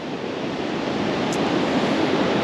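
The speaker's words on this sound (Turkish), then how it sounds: "Oh, Hazar Denizi'nin kıyısındayız." Steady wash of surf on the Caspian Sea shore near Şüvelan, Azerbaijan, a continuous broadband roar of breaking water, moderately loud and unbroken, with no voices.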